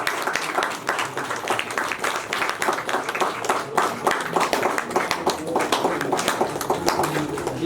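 Applause for the bride's uncle at a wedding: a crowd claps steadily and densely throughout, close by, with no break in the sound.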